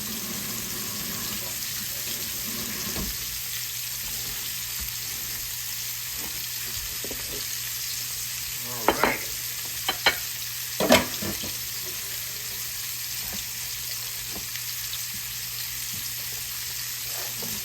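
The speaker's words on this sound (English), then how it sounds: "Let y'all listen to the sizzle while I clean up over here" Constant crackling sizzle of stuffed pork chops frying in a pan, steady and close, with a few brief clatters of utensils partway through.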